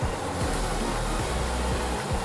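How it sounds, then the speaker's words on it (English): A continuous, loud rushing hiss as water hits a hot pan of garlic chicken teriyaki, steady and close without pauses or voices. "I'm just gonna add a little bit more water just to make sure they don't burn"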